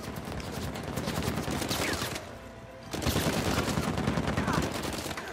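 Rapid automatic gunfire rattles in sustained bursts during an Uncharted 4 multiplayer fight, breaking off for a brief lull before resuming.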